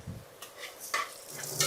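Stirring a Saudi-style chicken curry in a pan, a spoon scraping and clinking against the metal in short uneven strokes, close and moderately loud, with a faint sizzle underneath.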